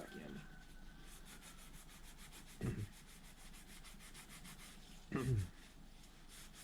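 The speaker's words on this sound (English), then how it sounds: "There's a little bit of rust on them, so it is taking it off with the Scotch-Brite" Scotch-Brite pad scrubs rust off parts of a 1971 Kawasaki F7 motorcycle, giving a continuous soft rasping rub close by, with two louder scraping bursts. A brief word is spoken.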